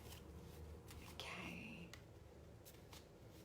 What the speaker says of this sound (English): When I start to shuffle the cards